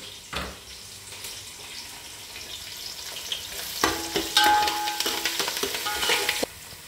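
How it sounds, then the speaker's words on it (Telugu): Curry leaves, green chillies, ginger and onion frying in a pan for Rayalaseema vuggani, a steady crackling sizzle with scraping stirs that grow busier and louder in the second half, then stop abruptly. "ఇలా కొంచెం ఫ్రై అవుతుందనే ఇది కూడా పచ్చిమిర్చి అల్లం కూడా కొంచెం ఫ్రై కావాలండి"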